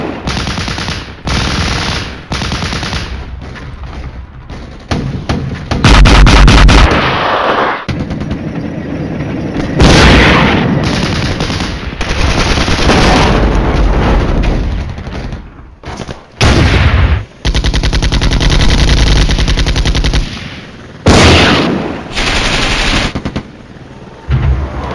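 Wargame Flashpoint Campaigns battle between NATO and Soviet tanks and BMP vehicles, with loud sustained machine-gun bursts, booming explosions and rumbling artillery in dense, chaotic waves separated by brief gaps.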